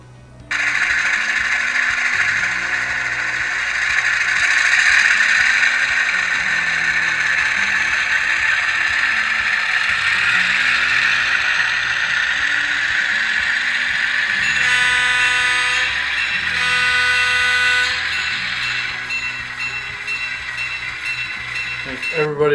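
Soundtraxx sound decoder fitted to a P2K SD7 model diesel locomotive, playing a steady loud engine drone with layered horn-like tones and mechanical ratcheting, holding continuously with brief bright bursts midway.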